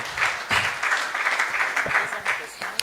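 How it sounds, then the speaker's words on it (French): Audience applause at a French question-and-answer session, a steady patter of clapping hands that swells and stays fairly loud throughout, with a few voices mixed in. "On acclame pour madame"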